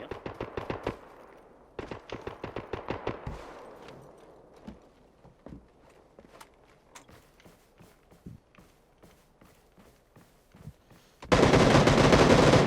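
Gunfire in the battle royale game PUBG: a rapid burst of sharp automatic shots, a second volley, then scattered single shots and footsteps, ending in a loud, dense roar of sustained fire.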